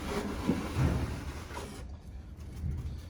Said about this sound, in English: We'll pull the tray out here.